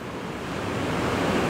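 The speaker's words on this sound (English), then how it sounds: "all kinds of waves." Ocean waves break on a beach beside a pier, a dense continuous roar of surf that swells slightly louder, heard close with some wind rumble and no talking.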